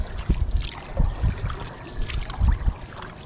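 Water sloshing and slapping around a small fishing boat on rough sea, in uneven bursts with low thumps and wind between them, close and fairly loud.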